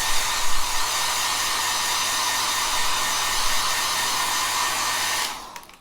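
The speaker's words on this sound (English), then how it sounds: "Take your hairdryer from before." A handheld hair dryer blows steadily and loudly at close range during a makeup routine, holding a constant airy roar for about five seconds before cutting off and winding down.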